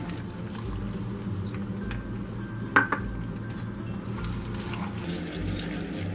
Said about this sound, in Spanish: Le voy a agregar yo un poco de agüita de donde hirvieron los fideos.